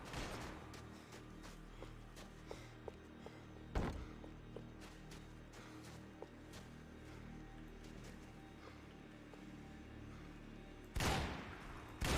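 Gunfire from a Max Payne 3 firefight, faint rapid shots crackling at a distance with two loud close blasts standing out, no talk over it.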